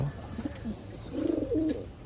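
Pigeons kept in a loft coo in soft, low, rounded calls, a couple of short coos followed by a longer rolling burst, close by with no talking.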